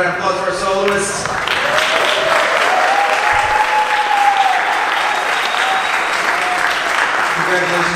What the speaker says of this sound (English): How about a round of applause for our soloists?